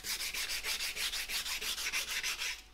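Hand sanding of cured UV filler paste, heard as close, evenly paced back-and-forth scrubbing strokes, about six per second, with no talk.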